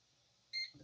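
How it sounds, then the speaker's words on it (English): A single short electronic beep from a CyberPower CP1500PFCRM2U rack UPS display button, clear and close, followed by a brief soft rustle. "And you heard that beep."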